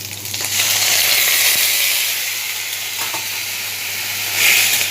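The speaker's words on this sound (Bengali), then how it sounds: "থোড়টা দিয়ে আমি একটু নেড়ে নেব" Boiled banana stem sizzles steadily as it is stirred in a frying pan, with a constant hiss that swells briefly near the end.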